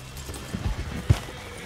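A horse in Red Dead Redemption II moves close by in a few soft hoof thuds and snorts, ending in one heavier stamp.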